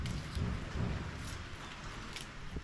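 Soft, steady patter of light rain falling nearby, a continuous gentle hiss with faint drips and no voices.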